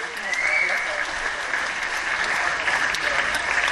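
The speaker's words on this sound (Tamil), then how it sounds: "நல்லா கைத்தட்டுங்க." An audience claps loudly and steadily at a Tamil film audio launch event, a dense continuous round of applause throughout.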